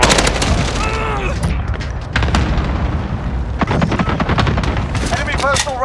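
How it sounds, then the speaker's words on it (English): Cluster strike explosions pound a battlefield in Call of Duty Modern Warfare, heavy booms and rumbling blasts layered with gunfire and rapid shots, loud and close, while voices and radio chatter sound over the chaos. "Allied cluster strike inbound."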